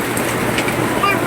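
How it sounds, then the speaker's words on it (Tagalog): Rain falling after a hot, windy spell, a steady close hiss of drops with no talk over it. "Sa wakas, umuulan."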